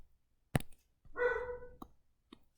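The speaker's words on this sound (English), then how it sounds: "That's my dog." A single close bark from a pet dog in a quiet indoor room, preceded by a sharp knock and followed by a couple of faint taps.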